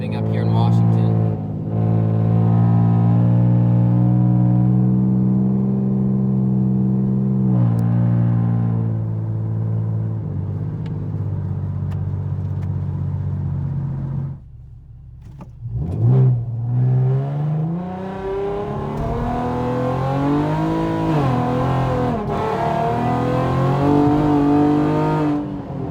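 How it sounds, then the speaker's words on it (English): A 2010 Chevrolet with a custom resonated midpipe exhaust drives in the rain, its loud, steady engine drone dipping briefly about halfway through before rising again in a series of revs. "here's going to be a driving clip of the resonated exhaust"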